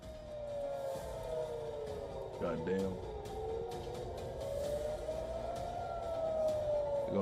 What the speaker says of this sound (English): Sirens sound across southern Israel.